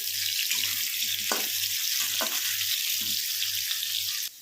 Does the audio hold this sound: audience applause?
no